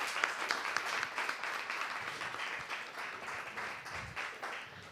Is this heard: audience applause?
yes